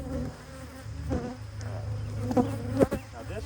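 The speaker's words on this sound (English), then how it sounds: "God, there's a lot of bees in there." Honey bees buzz inside an opened hive during an inspection, a faint, steady drone with a few closer passes of individual bees.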